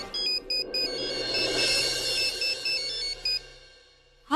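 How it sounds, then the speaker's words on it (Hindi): A phone ringtone plays a repeating pattern of bright electronic beeps, steady and fairly loud, with no talking over it. "बुलबुल तब से उसे फोन कर रहा हूँ, फोन ही नहीं उठा रही"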